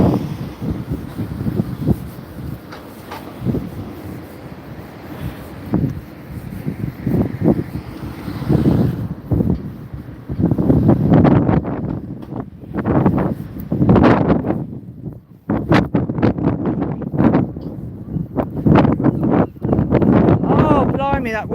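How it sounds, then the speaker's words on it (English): Wind gusts hard outdoors and buffets the microphone in loud rumbling bursts that rise and fall, with people talking intermittently through it. "that wind around here is awful"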